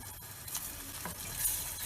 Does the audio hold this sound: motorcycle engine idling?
no